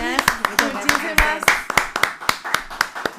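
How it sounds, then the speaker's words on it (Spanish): Applause for a woman journalist at the close of an interview, heard as a steady run of sharp, evenly spaced claps about three per second, close and fairly loud, with a voice talking over them. "Así que un aplauso para Elvira."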